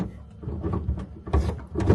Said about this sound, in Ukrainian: шукаєш четверту передачу через третю